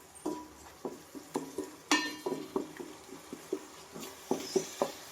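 Crab pieces for a Godavari-style crab fry are stirred in a pan: a series of light clinking and scraping taps in an uneven rhythm, close and fairly quiet, with soft sizzling beneath.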